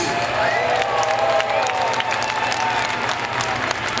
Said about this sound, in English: Everybody give them a great big cheer for 44 wonderful years.